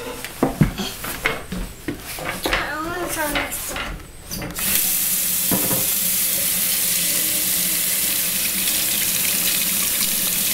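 Water runs steadily from a sink tap, a broad continuous rush that starts partway through after some clattering and movement, then holds at an even, fairly close level to the end.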